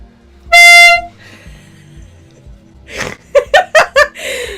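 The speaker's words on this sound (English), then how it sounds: "I got an air horn." A handheld air horn gives one loud, steady, blaring blast lasting about half a second, followed after a pause by a burst of laughter from a nearby person.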